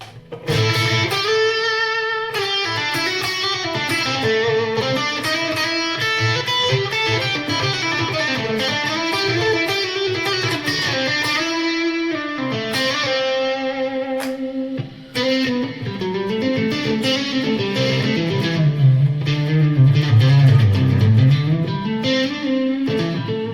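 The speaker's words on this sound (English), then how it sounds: "Let's do a little plate reverb." Electric guitar chords and melodic runs ring out through a Tonex One pedal's plate reverb, with a lush, spacious tail, played alone and fairly loud.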